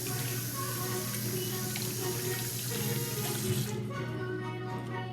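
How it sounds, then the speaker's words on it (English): Tap water runs steadily into a sink as mushrooms are rinsed under it, a continuous close splashing stream that drops off near the end, with no talk over it. "Okay, now my mushrooms are rinsed."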